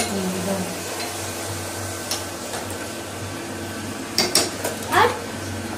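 Pots and cups clink in a home kitchen while tea is being made, a few sharp metallic knocks standing out near the end over a steady room hum, with a voice talking faintly in the background.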